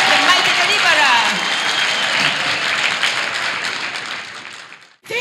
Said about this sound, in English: Clap for Jesus, the winner man, the mighty deliverer.